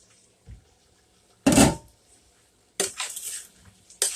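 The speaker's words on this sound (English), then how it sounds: "This has been cooking for about 5 minutes, so I'm going to uncover it" A metal lid comes off a pot of simmering beef, giving one sharp clanking rattle, then a second scraping clatter a moment later and a light tap at the end, with quiet in between.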